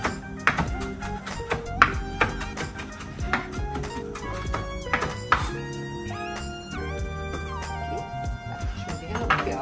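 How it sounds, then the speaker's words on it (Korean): A knife chops fresh parsley on a cutting board, a run of quick, irregular taps and thunks over steady background music. "퍽퍽퍽 다져놔 줄게요."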